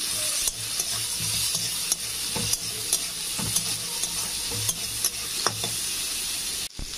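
Raw tomatoes fry and sizzle steadily in a hot pan for a fish sour dish, with a spatula scraping and stirring in a regular rhythm of soft clatters close by.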